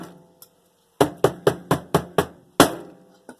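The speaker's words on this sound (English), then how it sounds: "Hit a couple times with the hammer." Sharp hammer blows strike a microwave: six loud, evenly spaced metallic hits in quick succession, with a few fainter taps before and after them.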